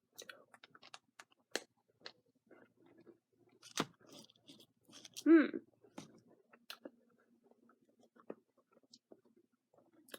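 Wrigley's Juicy Fruit Fruity Chews gum is chewed close up with soft, irregular wet clicks and crunches, one louder bite in the middle, amid quiet pauses.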